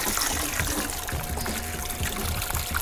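Vodka poured into a warm, ice-less punch being mixed for a pool party, a steady close trickling pour against busy background noise.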